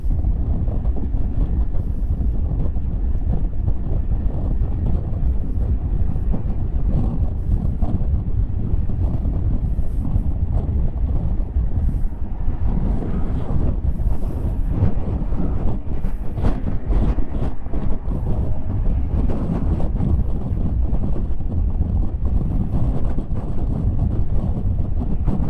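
Steady, loud wind buffeting the microphone while riding a Yamaha XMAX 300 scooter, a continuous low roar with rushing noise lasting throughout, no speech heard.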